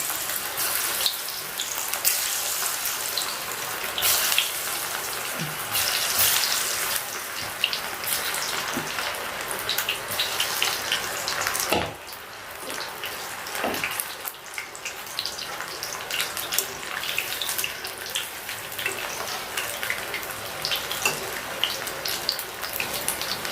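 Cauliflower pieces fry in plenty of hot oil over a high flame, giving a dense, loud, continuous bubbling hiss close up that carries on without a break, with only brief dips in intensity.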